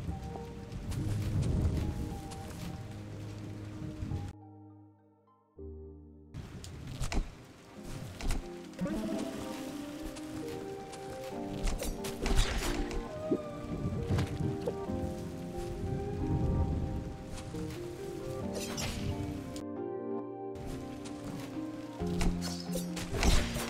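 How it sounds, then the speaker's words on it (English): Rain falls in the video game Islets as a soft patter under layered game music, with gentle thuds and taps scattered through and a couple of brief dropouts. "I always love rain in games. It's just a very pretty environment."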